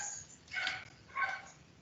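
Dogs barking in the background somewhere with many dogs, two distant barks about half a second apart, faint and alone without talk.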